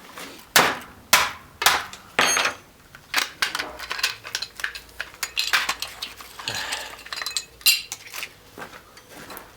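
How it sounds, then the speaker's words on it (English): A ball peen hammer strikes chunks of extruded aluminum pulled from a hair straightener being scrapped: a series of sharp metallic knocks, close and loud, arriving in irregular bursts with a few lighter clinks between. "Good old ball peen."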